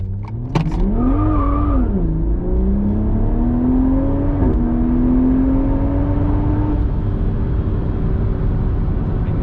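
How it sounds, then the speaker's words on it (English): A Toyota Supra A91 Edition with a JB+ piggyback tune launching from launch control, the engine holding a raised idle then surging as it accelerates hard with a rising, loud, close drone through a gear change, no talk. "All right, let's get the launch control. Launch control's active."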